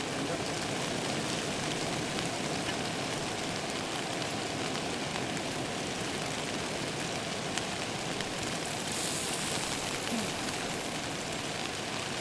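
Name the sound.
rain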